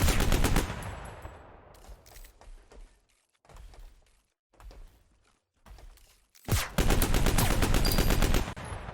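Light machine gun fire from the video game Project Genesis comes in several rapid bursts of varying length, loud and close, separated by brief gaps with faint mechanical clatter.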